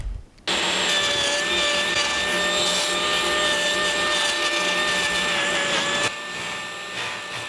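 A table saw cuts through a large, cheap 72 by 28 inch cutting mat: a loud, steady, whining roar starts after a brief quiet moment, holds for about six seconds, then eases to a lower running hum.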